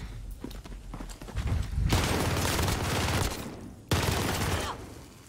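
Video game gunfire erupts in loud, rapid bursts of automatic shots, two dense volleys separated by a brief pause, close and continuous with no talk over them.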